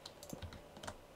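Keys struck hard on a mechanical computer keyboard, several quick uneven clacks in close succession, close-up and fairly quiet with no speech.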